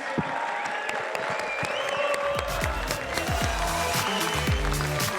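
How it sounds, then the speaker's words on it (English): A London fan crowd at a UFC Q&A applauds Paddy Pimblett, a dense wash of clapping mixed with cheering and the low rumble of the arena. "let's have a massive round of applause."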